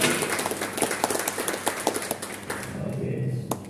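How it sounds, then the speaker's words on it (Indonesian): Audience clapping to welcome a speaker to the stage at an umrah travel partner presentation, a dense burst of applause with sharp individual claps that thins out toward the end, with some voices mixed in. "Tepuk tangan buat beliau."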